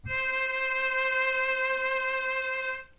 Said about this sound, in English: Our next one is a C. There is no space between those two notes.